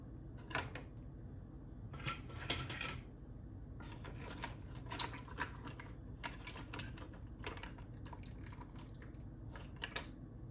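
Cooked mussels are lifted out of a pot and set down, making a string of sharp, close shell clicks and clatters in irregular bursts over a low background hum.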